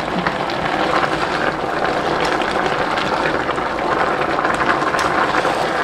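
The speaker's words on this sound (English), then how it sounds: "Okay, I'm checking on my cabbage right now. Which I have this at a boil." A pot of water holds cabbage at a steady rolling boil, with continuous dense bubbling and popping close by at an even level throughout, and no talk.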